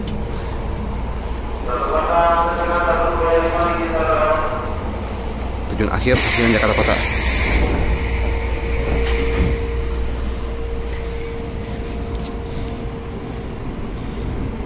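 Tokyo Metro 6000 series ten-car commuter train on the KRL Bogor line at night, a steady rumbling hum with a sharp hissing burst midway, under an onboard station announcement and passenger chatter.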